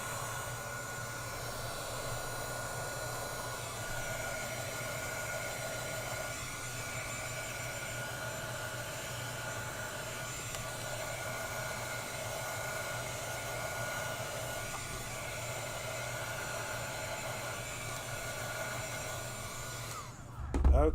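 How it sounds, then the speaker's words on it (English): A steady, even whoosh from a heat tool heat-setting stamped embossing on a handmade card, a continuous blowing hiss running unchanged for about twenty seconds before a sudden clunk at the end. "we're just going to heat set this real quick"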